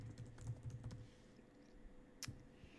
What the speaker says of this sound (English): start typing it in this way